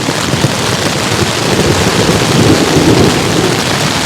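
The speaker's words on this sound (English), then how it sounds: "A severe knockdown thunderstorm, strong winds, inches of rain." Severe thunderstorm with strong winds and heavy rain, a loud, dense, continuous roar of downpour and rumbling thunder close by, steady throughout with no voices.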